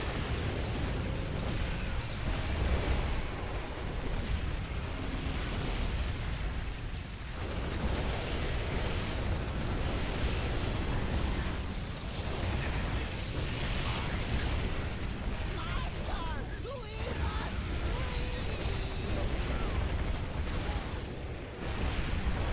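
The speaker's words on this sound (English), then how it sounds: "Summon some more meteorites." Summoned meteorite strikes in the real-time strategy game Dawn of War: Ultimate Apocalypse, a dense, continuous roar of explosions and battle noise with mechanical clatter, under game voices.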